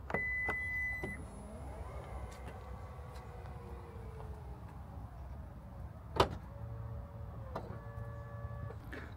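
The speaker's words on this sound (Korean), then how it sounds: "전동 테일게이트는 버튼으로 조작할 수 있고요" A button-operated power tailgate on a 2024 Honda CR-V hybrid Touring AWD: a beep, then a steady electric motor whir as the gate moves, a sharp latch thud partway through, and more motor hum and a short beep near the end.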